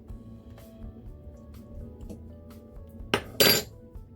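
A spoon clinks against a dish while scooping dollops of sugar-free Cool Whip, giving two brief, close clattering knocks near the end after quiet kitchen background.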